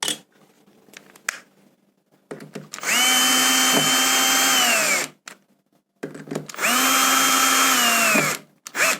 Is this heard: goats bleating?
no